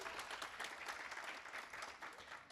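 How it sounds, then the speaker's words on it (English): A conference audience gives a round of applause at an opening session, with steady, continuous clapping that sounds somewhat distant and quiet. "I'll give Tim a round of applause"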